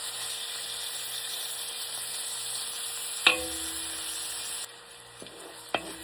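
Chopped garlic hitting a hot pan of onions while cooking adobong sitaw, a steady close frying sizzle with a few clinks of a utensil against the pan near the end.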